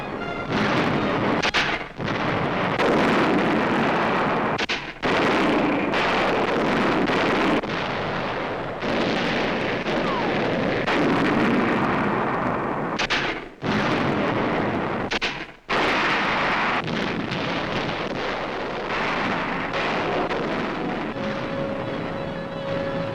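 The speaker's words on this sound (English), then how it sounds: "American tanks and mortars now blast German hillside strongholds in the center." American tanks and mortars fire on German hillside strongholds in a WWII Italian campaign battle, a continuous loud roar of heavy booms and blasts with brief gaps between salvos.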